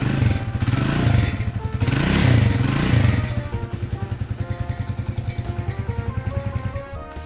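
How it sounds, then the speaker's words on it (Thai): A GPX Legend 200 motorcycle on its stock exhaust idles close by, first revved briefly in a few swelling bursts, then settling into an even, rapid thumping idle. "มาฟังเสียงท่อกันเลย"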